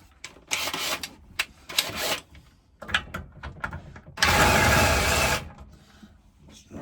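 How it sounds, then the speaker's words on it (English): An impact wrench removing a 13mm bolt that holds the tank on a Briggs Quattro 40 engine, short rattling hammering bursts followed by one longer loud burst, close by. "we'll get the impact wrench"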